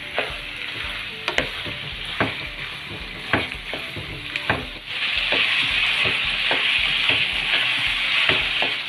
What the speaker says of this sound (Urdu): اب ہم بھنڈیوں کو فرائی کر لیتے ہیں، ان میں پانی نہیں لگانا تاکہ بھنڈی اچھی طرح فرائی ہو جائے